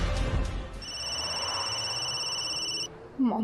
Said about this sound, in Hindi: मॉम का फोन।